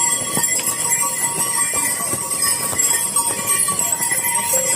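Horse hooves clip-clopping on a dangerous mountain road on the pilgrimage route to Kedarnath, a steady uneven series of hard close knocks under a constant hiss of wind and ambient noise.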